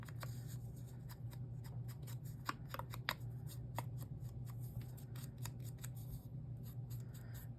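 Scissors snipping paper while trimming pieces for a handmade woodland journal cover, a quiet, close, rapid run of crisp cuts over a steady low hum.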